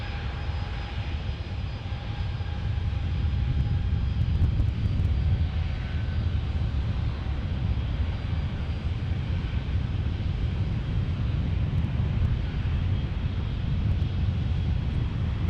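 An airliner landing at San Diego International Airport makes a steady, loud jet roar that holds for the whole stretch, with some wind buffeting the microphone.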